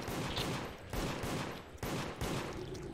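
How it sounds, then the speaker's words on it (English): Shotgun blasts in the video game Deceit, three loud, booming shots spaced about a second apart with rumbling decay between them. "I shot him with the shotgun"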